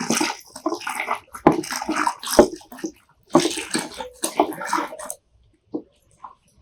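Water pours and splashes into a homemade fabric conditioner mix in uneven bursts with short pauses, sloshing close by.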